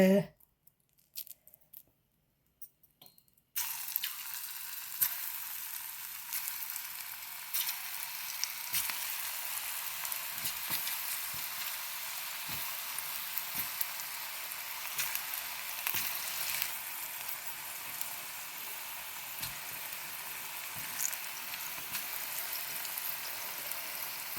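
Chana dal pakodas fry in hot oil, a steady, bright sizzle that starts abruptly after a few quiet seconds and continues unbroken, with occasional small pops and a voice speaking.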